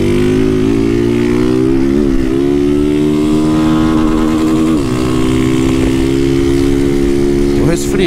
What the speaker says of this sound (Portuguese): Se a startinha já chorar pra parar essa moto. Chora, bebê.